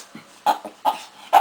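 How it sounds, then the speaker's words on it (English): A pet dog gives three short, close yips or whimpering barks, spaced roughly evenly with brief quiet gaps between, while being put through tricks like rolling over. "Cute dog."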